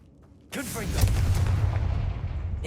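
A Confringo explosion spell in the video game Hogwarts Legacy bursts in suddenly after a near-silent moment, a loud close boom with a crackling fiery tail that sustains to the end.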